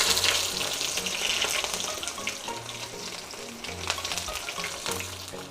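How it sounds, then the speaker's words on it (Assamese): Chopped onions fry in hot oil with whole cumin and bay leaves, a close, bubbling sizzle with intermittent stirring scrapes that carries on steadily. "পিঁয়াজখিনি ৰঙচুৱা হোৱালৈকে মই ভাজি লৈছোঁ।"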